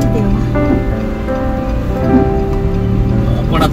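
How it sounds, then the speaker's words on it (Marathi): Heavy rain pours during a road journey along the Mumbai–Goa highway, a continuous wash of rainfall heard from inside a vehicle with steady engine hum and a voice speaking over it. "तुम्ही पाहू शकताय पाऊस किती जोराचा आहे"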